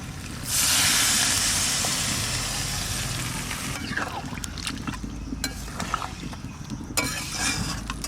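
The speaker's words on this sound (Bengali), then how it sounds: "এবার জল দিচ্ছি।" Water is poured into goat meat curry frying in a pot, giving a sudden loud rushing hiss that slowly fades, followed by softer bubbling and occasional clinks.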